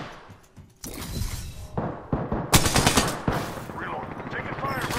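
Loud, close automatic gunfire from the battle royale shooter game Apex Legends, in bursts with a sharp crack and shattering impacts, alongside other in-game effects.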